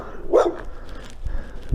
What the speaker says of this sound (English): Doberman or something barking at me